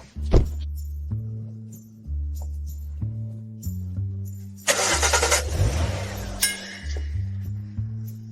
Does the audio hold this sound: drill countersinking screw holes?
no